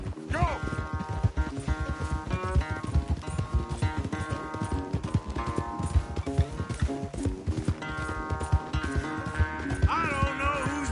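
Horses gallop in a race in Red Dead Redemption 2, a steady rapid clip-clop of hooves running close and continuous under music, with a brief whinny near the start.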